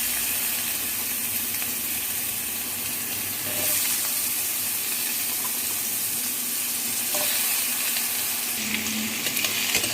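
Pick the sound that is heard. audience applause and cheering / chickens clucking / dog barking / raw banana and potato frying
raw banana and potato frying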